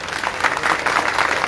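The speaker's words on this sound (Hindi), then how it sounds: "बहुत अच्छा प्रश्न है, ताली बजाओ।" Audience applause at a Bageshwar Dham religious discourse gathering in Korba, Chhattisgarh: a dense, steady wash of many hands clapping together, loud and sustained throughout with no break.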